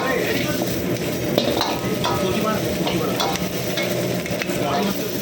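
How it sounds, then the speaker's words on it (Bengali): Green chilli, capsicum and onion being stirred in a hot pan, a loud constant sizzle broken by repeated spatula scrapes and light metallic clinks. "হালকা করে আমি একটু নাড়িয়ে নেবো"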